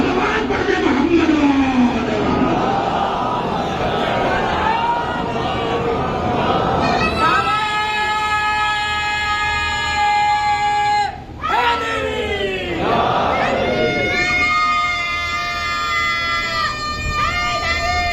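At a Shia religious majlis gathering, a large crowd chants salawat in unison, a loud sustained collective chorus after a rising shout, swelling together in long held tones with a brief pause midway.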